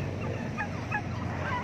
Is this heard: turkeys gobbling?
yes